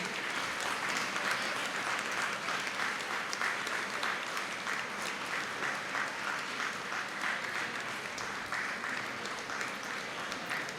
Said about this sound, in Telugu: చప్పట్లు చప్పగా ఉన్నాయండి